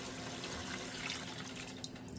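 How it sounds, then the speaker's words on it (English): Water with thyme is poured into a cooking pot for an oxtail curry, a faint, continuous splashing trickle with a steady low hum underneath and no talk. "Now I'm going to add this water with some thyme."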